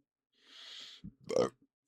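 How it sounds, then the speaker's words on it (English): A single loud burp from a teddy bear VTuber during a late-night ASMR session, a short throaty belch standing alone after a moment of soft breathy noise. "excuse me, sorry, goodness, burp"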